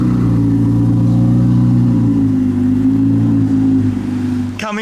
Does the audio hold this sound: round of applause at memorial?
no